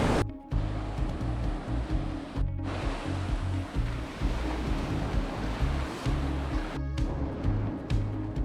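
Gentle Caribbean sea waves at Punta Uva beach, Costa Rica, make a continuous wash and rumble of surf that is loud and close, broken by a few short silent gaps, with no voices.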